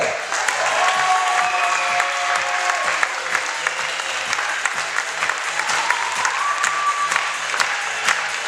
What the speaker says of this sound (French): Un tonnerre d'applaudissements s'il vous plaît pour Marjorie